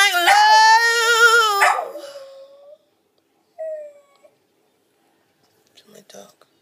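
A dog howls loudly and close in a long, wavering, tuneful cry lasting about two seconds, then gives a short whimper, followed by near silence and faint, scattered sounds.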